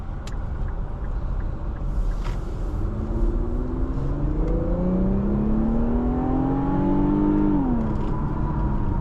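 A 2022 Infiniti Q50 Luxe AWD accelerates from inside the cabin, its engine note rising steadily over road roar before easing off as it shifts, with no talking.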